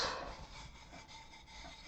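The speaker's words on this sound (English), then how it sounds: "you just kind of do a rough sanding" Rough, steady scraping of abrasive on wood, a continuous close rasp with slight back-and-forth swells and no talking.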